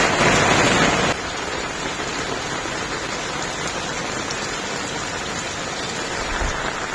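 Steady, dense rain falls on a village in Palghar district during a rain alert, a constant broadband hiss that is heavier at first and then settles into an even downpour with no voices.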